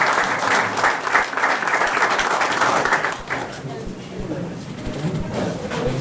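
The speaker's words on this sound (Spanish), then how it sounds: "lo vamos a recibir con un fuerte aplauso para animarlo" Sustained applause from an audience at a magazine's 10th anniversary event, dense and steady, thinning out in the last few seconds with some background murmur.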